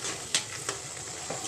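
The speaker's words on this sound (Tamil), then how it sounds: "எல்லாத்தையும் வதக்கியாச்சு" Onions, mint and other ingredients being sautéed in a pan for mutton biryani give a steady soft sizzle, broken by a few sharp clicks of a spatula against the pan.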